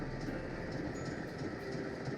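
A moving train rumbles on in the video game Nancy Drew: Last Train to Blue Moon Canyon. Its steady, dense rolling noise carries a faint rhythmic clatter and continues throughout without any voices.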